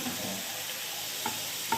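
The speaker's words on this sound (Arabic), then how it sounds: "ونجيب طاسه ونحط فيها شويه زيت" Minced meat frying in about four spoons of oil in a pan, a steady close sizzle with a couple of soft stirring knocks near the end.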